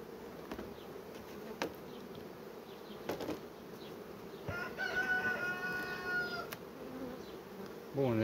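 Spare queen bees fly while collecting nectar in an apiary, making a faint continuous buzz with brief nearby fly-bys. A rooster crows in the distance partway through and again at the end.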